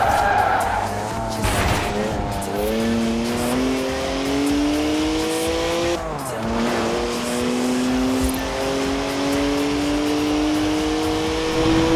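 Car engine from Forza Horizon 4, a 3-litre twin-turbo straight six making 335 horsepower, howls with rising revs while tires squeal through a long drift, loud and continuous with gear-shift dips.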